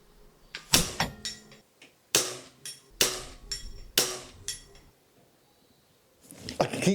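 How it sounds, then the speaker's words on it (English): Flattened lead air rifle pellets from a Weihrauch spring rifle striking and pinging off a saw blade target, giving several sharp metallic impacts spaced irregularly, each ringing briefly before fading, with a closer rustle at the end. "I keep seeing the flattened lead pinging off it"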